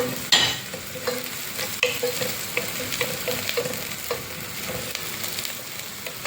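Three green chillies being stirred and sautéed in a pan for a soup: a constant close sizzle with repeated light scraping knocks of the spoon throughout.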